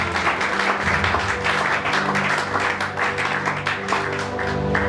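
Congregation applauding during a church sermon, sustained dense clapping from many hands filling the room steadily from start to finish.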